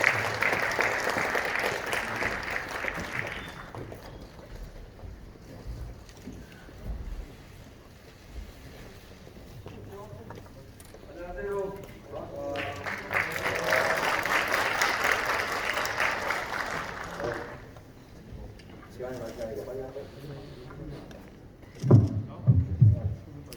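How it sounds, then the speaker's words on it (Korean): Audience applause at a Daegu–Gyeongbuk future-vision lecture at Kumoh National Institute of Technology in Gumi, with two sustained bursts of clapping from a large hall crowd, broken by quieter stretches and a few louder close claps at the end. "뜨거운 박수로 맞이해 주시기 바랍니다"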